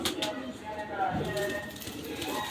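Pigeons of a home-bred flying breed cooing softly in a loft, with low murmuring calls and some rustling close by, partly under someone talking.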